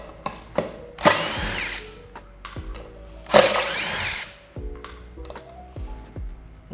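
A Dewalt DCF887 cordless impact driver runs in two short, loud bursts, each about a second long, as it drives a short bolt, with quieter clicks and handling knocks in between.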